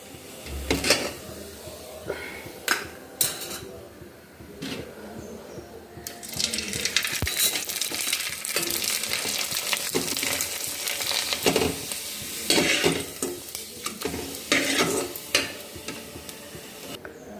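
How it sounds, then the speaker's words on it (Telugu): Sun-dried tomato vadiyalu (crisp lentil wafers) drop into hot oil and sizzle loudly, with bursts of frying crackle, scraping stirs and a few clanks of utensils in a home kitchen; no speech. "ఇదిగో ఆయిల్ అయితే హీట్ ఎక్కింది కదా వడిమేద్దాం"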